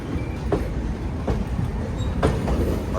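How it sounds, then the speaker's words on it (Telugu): A train rolls past on the adjacent track at Chennai Central station, the Ahmedabad–MGR Chennai Central service, giving a steady close rumble with faint periodic wheel clicks and no talking. "పక్కన పోతుంది ఏం ట్రైన్ అది? Ahmedabad MGR Chennai central train."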